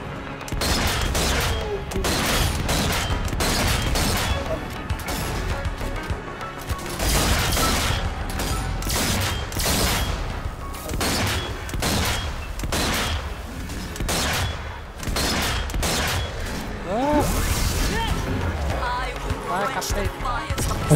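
Rapid sniper rifle fire in the co-op zombie shooter Zombie Army 4, dense bursts of shots and booms running continuously under excited players talking throughout.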